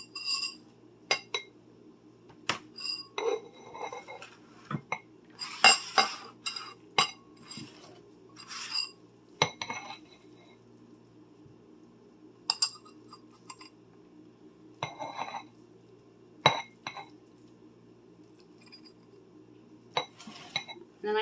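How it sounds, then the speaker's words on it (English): A spoon scoops Mexican rice into a bowl, making scattered crisp clinks and scrapes against the dishes. The strikes come in irregular bursts with quiet gaps between them, close by and fairly clear. "Now I'm going to take a spoon and we're going to scoop some into my bowl."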